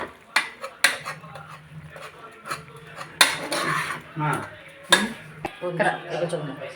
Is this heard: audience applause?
no